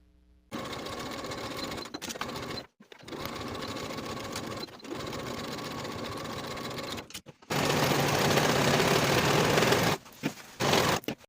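Sewing machine running side and shoulder seams on a puff sleeve ruffle dress, several bursts of fast, steady motor-driven stitching separated by short pauses, the final run louder and brighter, close up with no talk.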